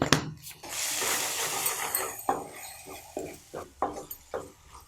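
A spoon scrapes and stirs tomato masala with red chilli powder, turmeric and salt as it roasts in a pan, making a string of close, uneven rubbing and scraping strokes with no talking.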